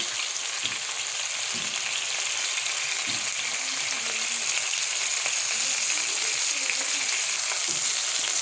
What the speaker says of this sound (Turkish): Kızaran soğan ve biberlerimizin yanına hemen şöyle dilimlemiş olduğumuz orta boy bir domatesimizi de ilave edelim.